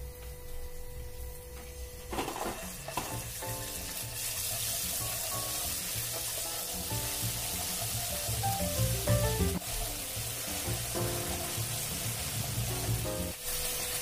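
Ginger and garlic paste sizzles in a hot pan while cooking a besan pitod curry, a steady loud frying hiss that surges after a sharp start and runs on with light clinks, no voices.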